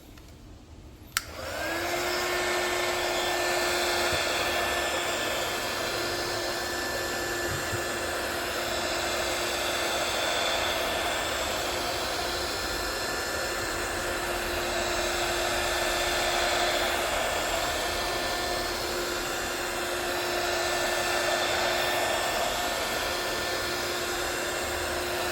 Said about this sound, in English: I'm going to use the same method, heat gun and suction cup.